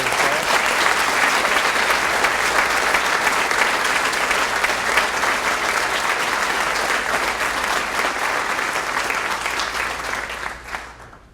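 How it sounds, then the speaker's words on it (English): A roomful of people applauds an honoree at a police employee-of-the-year ceremony, a long even wash of clapping that holds steady before tapering off at the end. "Give him a round of applause"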